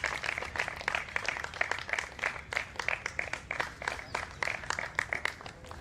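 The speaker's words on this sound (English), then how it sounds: "A round of applause" A crowd gives a steady round of applause at the trophy ceremony after the MCC Championship 2025 open-age cricket final between PJ Hindu Gymkhana and Jolly Gymkhana, with dense clapping that rises and falls for several seconds.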